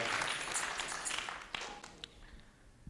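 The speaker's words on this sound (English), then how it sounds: "And a huge round of applause." Wedding guests clap at the Primisha and Gopal ceremony, a soft, fairly distant patter of many hands that thins out and fades toward the end, with a few sharper individual claps near the close.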